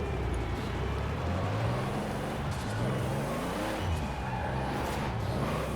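Paul Walker's Toyota Supra from the Fast and Furious films driven in Forza Horizon 4, a steady, loud engine drone with shifting revs and a hint of tyre noise throughout.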